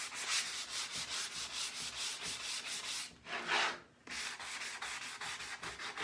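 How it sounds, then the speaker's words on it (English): A white painted surface is hand-sanded up close in quick, steady back-and-forth strokes that keep a brisk rhythm, with a brief pause around the middle before the scraping resumes. "It's kind of good to sand these or white painted surfaces just a little bit."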